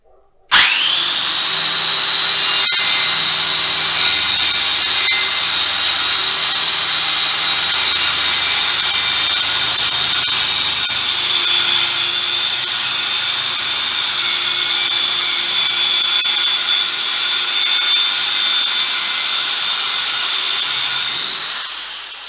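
A circular saw spins up sharply and whines loudly through a long, steady cut in marked wood at set depth, holding an even high-pitched scream for about twenty seconds before winding down at the end, with no voices.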